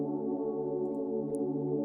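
A soft synth pad built from the same electric piano MIDI holds one steady, warm chord throughout with no break, smooth and sustained at moderate level.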